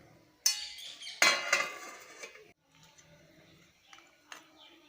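A lid comes off a cooking pot of Bengali murighanta made with catla fish head, giving two sharp metallic clanks and a brief rattle, followed by faint clinks in a quiet kitchen.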